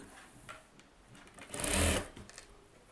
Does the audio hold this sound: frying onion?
no